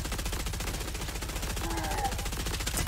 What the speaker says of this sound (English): Out of ammo? Fine, I'll switch my assault rifle.